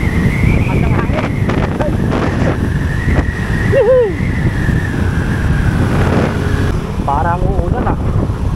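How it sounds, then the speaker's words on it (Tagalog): Wind buffeting the microphone outdoors along a road, a steady loud rush throughout while people talk over it. "Ang hangin."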